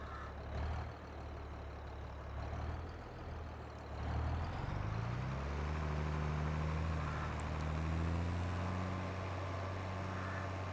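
Tractor engine in the video game Farming Simulator 22, a steady loud low drone that rises in pitch partway through as the machine speeds up while spreading lime across a field, with no talking.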